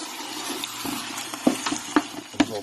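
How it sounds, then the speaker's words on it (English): Crackling, bubbling sizzle of chicken frying in oil in a pan, with a few louder pops and spits standing out from the steady hiss, close up. "that's going to start frying that chicken up"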